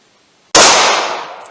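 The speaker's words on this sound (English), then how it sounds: "Alright, first up is the 32 H&R Magnum." One sharp, loud report from a .32 H&R Magnum revolver fired outdoors, a sudden crack that decays over about a second after a near-silent lead-in.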